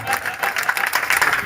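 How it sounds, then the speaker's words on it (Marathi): Audience at a Marathi program honoring Dr. Babasaheb Ambedkar breaking into steady, dense applause, a brief continuous burst of many hands clapping at close range. "टाळ्या वाजवा जोरदार"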